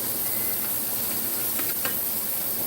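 Low-fat sausage frying in a skillet for a Southern breakfast, a constant close crackling sizzle with a few brief spitting pops.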